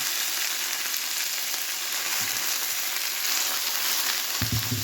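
Constant crackling sizzle of food frying in a hot pan, a dense hiss throughout with a low thump near the end.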